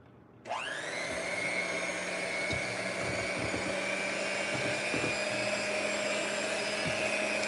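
An electric mixer whirs into 7-Up pound cake batter, starting abruptly and then running at a steady, loud, high-pitched whine with a rough grinding texture throughout.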